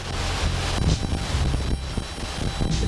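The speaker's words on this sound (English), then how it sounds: "I mean, it's windy right now" Strong outdoor wind buffeting the microphone, a loud, continuous roar with gusty swells and rumbling low-end surges, no voices present.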